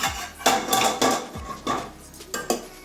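Metal lid lifted off a cooking pot of soybean and okra curry, several sharp clinks and clatters of metal on metal in a quick irregular series, close and clear.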